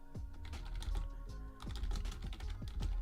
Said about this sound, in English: I'm typing it out the short way.